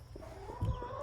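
Chickens cluck softly at close range while feeding, with a few short clucks and low murmurs over a quiet, faintly noisy background.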